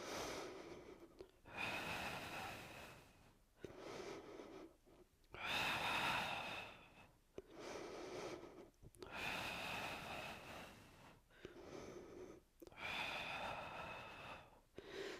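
Heavy rhythmic breathing during a Pilates mat exercise, sharp forceful inhales and exhales alternating in steady pulses over several rounds, close and fairly quiet, with no talking.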